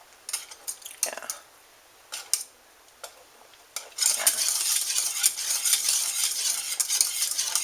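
A whisk scraping and stirring a gluten-free white sauce in a pan, first a few separate light strokes with pauses, then steady fast continuous whisking with sizzling, close and clear.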